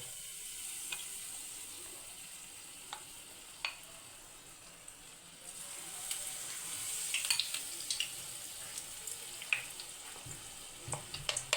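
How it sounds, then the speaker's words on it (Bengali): Batter-dipped corn pieces fry in hot oil, giving a steady, fairly quiet sizzle with scattered crackles and small pops, heard close up with no talking. "একটা একটা করে কর্ন তেলের মধ্যে ছেড়ে এগুলোকে ফ্রাই করব।"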